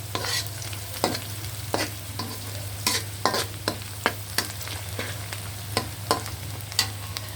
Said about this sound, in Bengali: এখন দিয়ে দিচ্ছি এলাচের গুঁড়ো আর লং, আমি একটু থেতো করে নিয়েছি। এগুলোকে একটু ভেজে নেব।